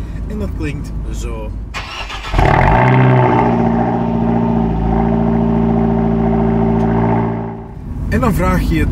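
A 2018 Abarth 124 Spider GT's front-mounted 1.4 turbo engine fires up and revs, holding a loud, raspy, steady drone for several seconds, with someone talking before and after.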